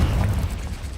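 A fiery Confringo spell blast in Hogwarts Legacy, a brief dense rumbling explosion with strong low-end roar that fills the whole moment without any speech.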